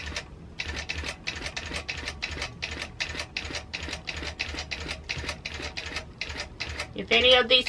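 A longarm quilting machine stitches across a quilt, giving a fast, even run of mechanical ratcheting pulses close by, ending in a louder, busier burst.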